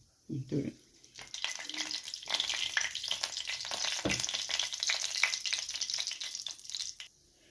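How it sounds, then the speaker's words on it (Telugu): Mustard and cumin seeds splutter in hot oil in a pan, a close, steady crackle with fine popping that runs for several seconds after a short, low thump at the start. "ఆవాలు కొంచెం చిట్పట్లాడాలి."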